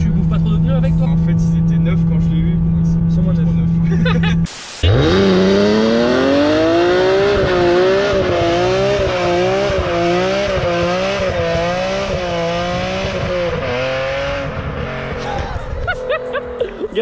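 A BMW M3 E46 with a 360-horsepower engine revs hard through a burnout, its engine pitch rising and wavering over screeching tires after a brief cut, loud and close for most of the stretch.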